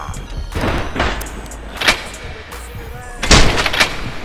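Armor-piercing gunfire in the John Wick VR video game, heard as several heavy, sharp shots spaced irregularly over a steady background rumble, with one especially loud blast near the end.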